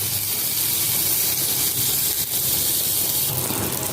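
Garlic and herb butter sizzling in a hot pan, a loud, steady hiss that crackles continuously throughout with no voices over it.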